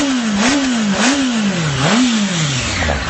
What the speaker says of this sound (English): Has the traditional lovely Honda purr